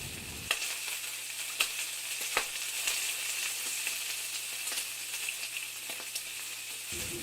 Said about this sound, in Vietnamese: đun nóng dầu ăn, cho tỏi băm, hành băm, ớt băm và phi thơm.